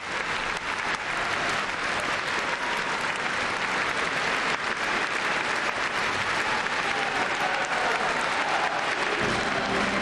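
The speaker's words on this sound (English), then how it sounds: "Of course, receiving much applause, as you can hear and see there." Sustained, dense applause from a large audience greeting Vladimir Putin and the Crimean leaders at the Russia–Crimea reunion ceremony, loud and steady for the full stretch with no talk over it.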